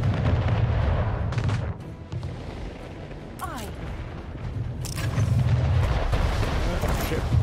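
Naval battle in the Anno 1800 strategy game: cannon fire destroys a ship, with repeated booming shots and rumbling blasts over a dense, continuous low roar of combat that stays fairly loud throughout.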